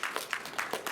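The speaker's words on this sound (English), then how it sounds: "A round of applause." Brief burst of audience applause in a lecture hall at a psychiatry talk, several quick claps close together with no voice over them.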